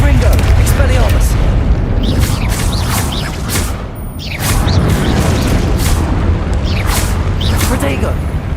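Confringo blasting spells explode in Hogwarts Legacy, producing repeated loud booms and crashing bursts while a voice talks over much of the combat.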